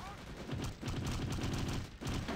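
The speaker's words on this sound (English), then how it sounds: "I don't know where that MG42 was shooting" An MG42 machine gun fires in the co-op video game Return to Castle Wolfenstein, a dense, rapid, loud burst of rattling shots that runs almost continuously, with a couple of brief gaps.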